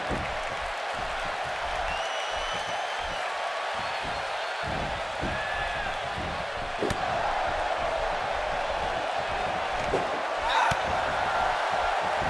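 A steady roar of an arena crowd at a WWE 2K18 wrestling match in Orlando, with scattered claps and thuds breaking through the continuous cheering.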